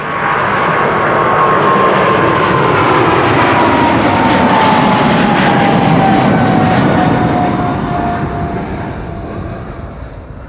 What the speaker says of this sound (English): Takeoff.